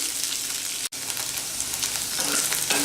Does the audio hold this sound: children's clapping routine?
no